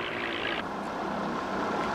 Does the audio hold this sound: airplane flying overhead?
yes